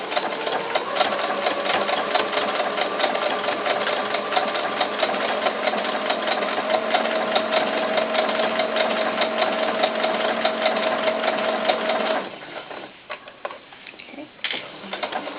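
A sewing machine stitches fabric for a doll tank top in a rapid, steady close-up chatter that runs continuously, then slows into a few short stops and starts near the end, with no talking.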